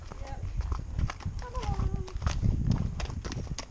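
Hooves of a horse walking up a lane, making a steady clip-clop close by, with a short whinny-like squeal early on and a voice talking briefly.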